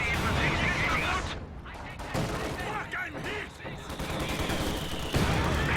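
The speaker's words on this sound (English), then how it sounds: "Oh, nasty mortar shell there." A mortar shell bursts amid a dense battle of rapid gunfire and rumbling blasts in the real-time strategy game Company of Heroes 2, with a voice talking over the loud, continuous combat noise.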